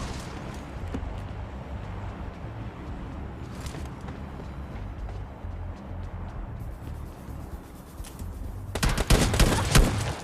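Gunfire in the mobile battle-royale game PUBG Mobile Lite crackles steadily under a dense layer of game noise, then swells into a louder, sharper burst of shots near the end.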